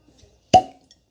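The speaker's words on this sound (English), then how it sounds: "healthy cork pop" Cork pulled from a bottle of Wild Turkey Rare Breed non chill filtered bourbon whiskey: a single sharp, close hollow pop with a brief ringing tail in a quiet room.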